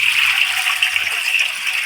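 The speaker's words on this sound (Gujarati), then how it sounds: "ટોપડીમાં જે પાણી છે ને ટોપમાં એડ કરી લેશું" Water poured steadily from a smaller vessel into a large cooking pot while making rice-flour wafers, a continuous bright gushing splash heard close up and alone.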